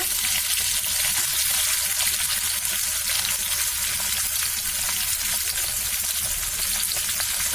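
Prawns and garlic fry in a hot pan, giving a loud, dense, unbroken sizzle and crackle close up throughout.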